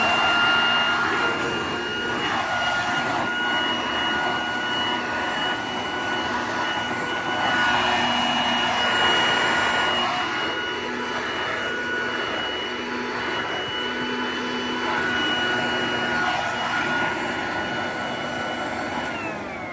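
A vintage Royal handheld vacuum cleaner runs continuously close by, giving a steady whining roar with faint shifts in pitch throughout.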